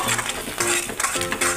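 Kashmiri chilli powder spice mix being stirred and fried in a pan for anda malai curry, with steady scraping strokes and a continuous sizzle, close and fairly loud.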